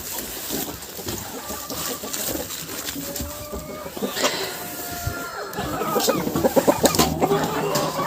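Chickens cluck and squawk while being fed potatoes outdoors on a farmyard in freezing winter after an ice storm, a busy flock of overlapping calls that grows louder and more excited toward the end.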